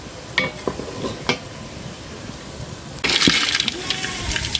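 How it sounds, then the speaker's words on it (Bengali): Steady frying sizzle in oil, quiet with a few clinks at first, then growing louder and denser as stirring stirs up a bright hiss. "সাবধানের সাথে এরকম আস্তে আস্তে করে ভাজে নেবেন"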